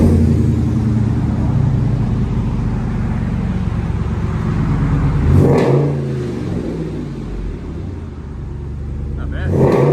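A Ram Power Wagon with a 6.4L Hemi V8 and aftermarket exhaust rumbles at idle, then revs in two loud bursts, with talking alongside.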